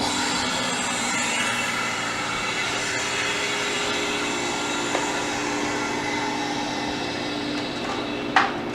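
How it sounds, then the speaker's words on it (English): Steady, loud whooshing hiss as the drain valve on a home freeze dryer is opened and the vacuum releases after a batch of ice cream and milk, continuous, ending with a faint click. "So we'll get the drain valve opened."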